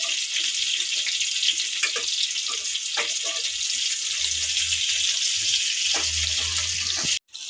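Bitter gourd pieces frying in oil in a pan, a steady bright hiss and sizzle throughout with a few soft clicks, close up, ending in an abrupt cut.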